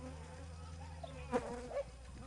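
Honeybees from about twenty colonies buzz at a spring apiary among hives, a steady faint hum with a couple of brief louder passes of bees flying close by.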